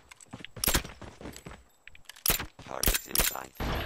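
Rapid bursts of gunfire from the mobile shooter COD Mobile come in several loud, clustered volleys with brief gaps between them, sharp and close, with faint footstep-like clatter in the quieter stretches.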